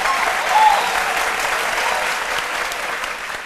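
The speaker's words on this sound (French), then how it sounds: "On l'applaudit très fort." Studio audience on a French television talk show applauding loudly and continuously, a dense wash of clapping that fades slightly toward the end.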